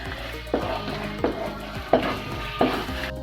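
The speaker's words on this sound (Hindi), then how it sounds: "अब 15-20 मिनट मुझे इसकी बुनाई करनी है।" Carrot halwa, gajar ka halwa, is roasted and stirred in a pan over high flame, a steady sizzle broken by four evenly spaced scraping strokes of the spoon against the pan, close and clear with no talk.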